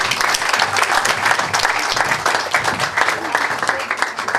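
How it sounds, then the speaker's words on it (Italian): Dense, steady applause from a large audience at an award ceremony, continuous and loud for several seconds with a faint voice underneath. "Grazie a tutti, un applauso."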